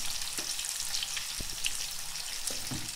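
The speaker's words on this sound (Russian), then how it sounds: "Немножко сейчас обжарим." Steady, continuous sizzling of boiled eggplant frying in a pan, with a few soft clicks and stirs, close and fairly quiet throughout.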